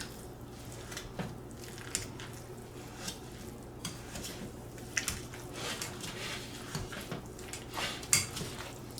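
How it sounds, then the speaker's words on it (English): Sweet potatoes and sugar being mashed in a bowl with a potato masher make a soft squishing, scraping sound with irregular thuds and clinks against the bowl, fairly close and moderately quiet. "I am just going to use my potato masher to get that all incorporated here"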